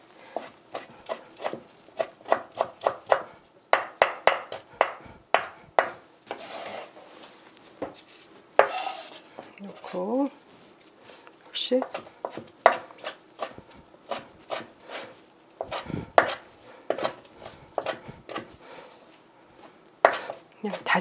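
A kitchen knife minces blanched chwinamul wild greens finely on a cutting board, with quick, close, rhythmic chopping strikes in runs broken by short pauses and a little board scraping.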